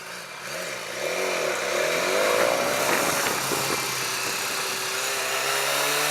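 A BMW S1000XR motorcycle ridden on the road, its engine droning steadily with rising and falling pitch as it accelerates and shifts, close and fairly loud over broadband wind and traffic noise.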